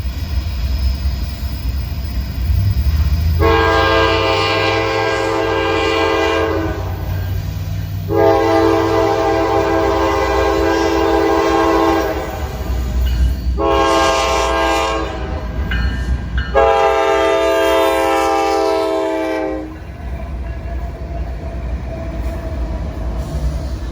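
Norfolk Southern northbound freight train 282 rumbles past close by, its horn sounding four long, loud blasts in sequence over the heavy rolling drone of locomotives and cars.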